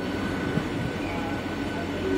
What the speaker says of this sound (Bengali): 6:54 ট্রেন কিন্তু এখান থেকে সাঁতরাগাছি স্টেশন থেকে ছেড়ে দিল।